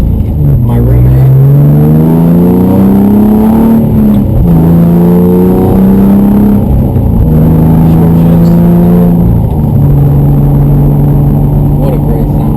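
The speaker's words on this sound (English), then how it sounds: "what a great sound. I love driving this car." A raced, modified car's engine revving hard while driving, pitch climbing through several gears with shifts between, loud and close, with a voice talking over it.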